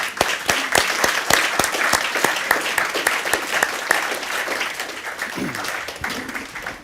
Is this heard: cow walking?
no